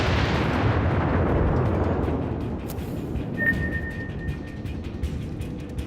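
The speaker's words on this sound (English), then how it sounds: "And here comes the first broadside." Kongo, a battleship in a naval warfare game, lets off a broadside: a loud, heavy booming blast that fills the low end and rolls off into a long rumbling decay. It stands alone with no talk over it.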